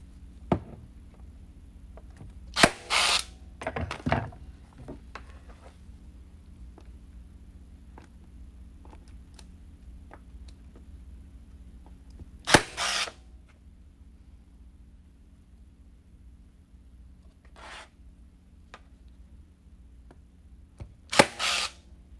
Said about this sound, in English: So if the sign is a little bit heavier, I like to use a staple gun.